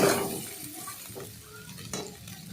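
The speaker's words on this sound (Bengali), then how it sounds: "এটাকে ভালো করে নাড়াচাড়া করে ভেজে নিলাম" Spices with ginger, poppy seed and a chili are stirred and fried in a pan for paneer korma, with a spoon scraping and clinking near the start and again later over a low steady sizzle.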